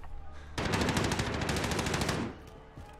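Light machine gun fire in the Warzone video game: a sustained rapid burst of about a second and a half, loud and close, fading into scattered distant shots.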